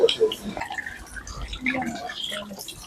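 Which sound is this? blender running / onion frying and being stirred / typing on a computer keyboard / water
water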